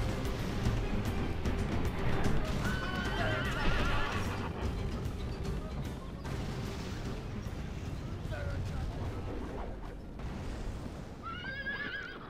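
Cavalry horses in the video game Rome Total War gallop with a busy clip-clop of hooves under sharp neighs and whinnies, set against a dense battle din.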